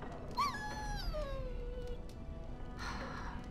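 A dog in a video game whimpers once: a single high, thin whine that slides downward and fades over about a second and a half, heard against a low, steady game background.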